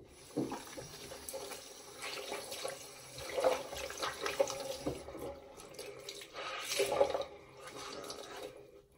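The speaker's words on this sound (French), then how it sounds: "Donc moi je me rince avec un gant." Tap water runs and splashes at a bathroom sink while a face is rinsed with a washcloth, giving intermittent wet swishes and drips at moderate to faint level.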